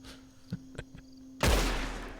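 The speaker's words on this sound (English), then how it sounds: "I shot and then I missed." Gunfire in the video game Red Dead Online: a few sharp isolated shots in quick succession, then one loud close blast that rings out and decays, with no talking.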